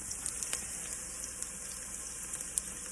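Shallots sautéing in a pan for eggrolls, a steady close sizzle with a few small pops and crackles running continuously and evenly throughout, no talking.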